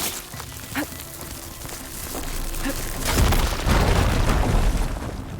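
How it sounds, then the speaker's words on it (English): Fire gleam ignited into an explosion in Horizon Forbidden West, a few soft pops and thumps followed by a deep rumbling boom that swells and lingers loudly for several seconds. "Let's ignite a little fire gleam to start it off."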